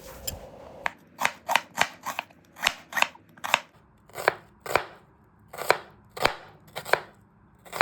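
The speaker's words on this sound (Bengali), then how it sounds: "পেঁয়াজটাকেও এভাবে পাতলা পাতলা করে কাটবো।" A knife slicing an onion thinly for homemade veg chowmein, a steady run of about twenty crisp, close chops on a board, evenly paced with no talking.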